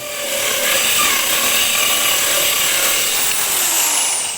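Circular saw attachment on a drill cutting through laminate, a loud, continuous whining buzz of the blade biting the board, held steady for several seconds with no speech.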